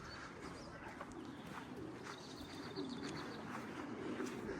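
Soft pigeon cooing amid faint outdoor noise and occasional chirps, quiet and somewhat distant, with no talking.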